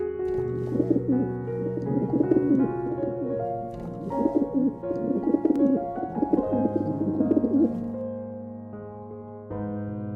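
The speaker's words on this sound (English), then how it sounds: "Pigeon." Pigeon cooing in a steady series of soft, throaty, rolling coos, loud and close, repeating with short pauses and no talk over it.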